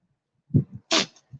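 A short, sharp goat sneeze, preceded by a couple of soft snorts and followed by a faint snuffle, close and otherwise quiet.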